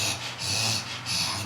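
Heavy, rhythmic breathing imitated by a person's voice, mimicking a silent scam caller on the phone; close and steady, with slow breaths swelling and fading in a repeating cycle.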